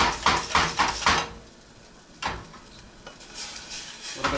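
Fish stock being stirred in a pan, with a burst of rhythmic scraping and sloshing strokes at the start, a lull, then further short stirring bursts close by.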